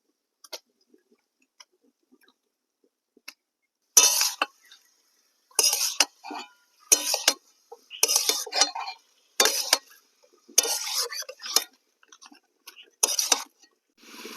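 Chicken goes into a pan of fried red onions and chopped tomatoes for Tahari-style chicken khichuri, stirred with a utensil: about eight separate bursts of scraping and clinking, close by, with quiet gaps between and no talk.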